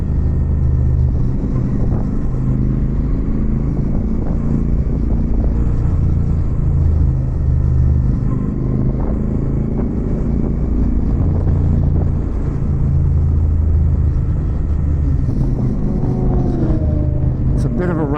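Royal Enfield Super Meteor 650 motorcycle on a twisty highway ride, a low continuous engine rumble mixed with wind roar heard steadily throughout, with no clear changes in pace.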